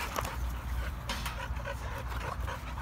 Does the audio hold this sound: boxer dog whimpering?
yes